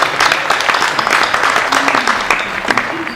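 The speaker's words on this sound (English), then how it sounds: "Let's give him a round of applause." Applause from an audience at a symposium, a steady, dense patter of many hands filling the room at close range, with faint voices mixed underneath.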